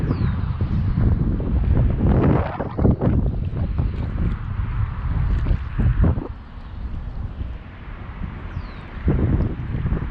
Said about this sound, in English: Wind kind of picked up a little major here.